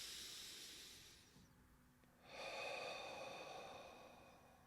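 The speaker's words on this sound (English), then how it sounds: "Deep breath in." One slow, deep inhalation through the nose, close and quiet, a soft airy hiss that swells, pauses briefly, then returns stronger, with no talking.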